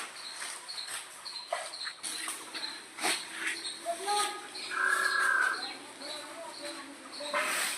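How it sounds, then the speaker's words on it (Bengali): Birds call outdoors near a jackfruit-leaf packing site, with a few chirps and a clearer drawn-out call midway standing above a soft background murmur of activity. "পাখির ডাক শুনতে পেলেন।"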